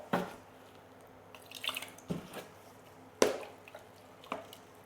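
Water drips from a freshly repotted Alocasia plant, a handful of separate, close drops falling at irregular intervals against a quiet background.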